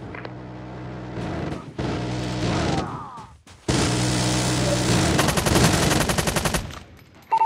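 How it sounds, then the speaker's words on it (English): An automated sentry gun in a first-person shooter fires in bursts of rapid shots, with a brief pause midway before a denser, louder stretch of continuous fire, close and punchy with game effects mixed in. "Sentry gun deployed."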